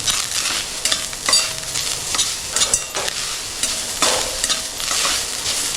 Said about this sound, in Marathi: खोबरं टाकते खोबरं आहे ना एक दोन ते तीन मिनटं परतवून घ्यायचं